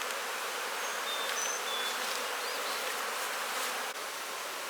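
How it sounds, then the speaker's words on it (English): Nurse bees fan at the entrance of a small split colony, a continuous, fairly soft high buzzing hum that stays even throughout, with no voices. "These bees are fanning and calling them home."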